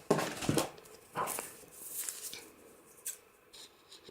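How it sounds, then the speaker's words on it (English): Scissors trim a sheet of A4 cardstock with a few crisp snips and crunchy cuts, close and fairly quiet, separated by short pauses. "I'm just going to use scissors to trim it"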